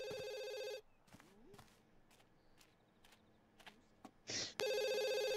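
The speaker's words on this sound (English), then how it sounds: "he's gonna go answer the phone too." Telephone ringing in The Sims 2 game: loud electronic bell tones ring at the start, then after a quiet stretch with faint soft thuds and brief game noises, the ringing resumes.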